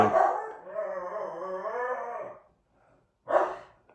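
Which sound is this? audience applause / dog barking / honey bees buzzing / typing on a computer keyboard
dog barking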